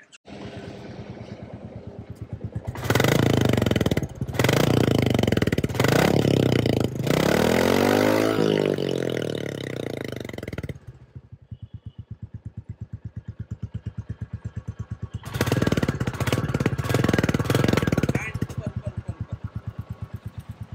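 A 2023 Royal Enfield Bullet 350 thumps along close by, its single-cylinder engine beating in a steady low pulse that swells loudly as the rider accelerates, dropping to a softer idle-like putter between bursts.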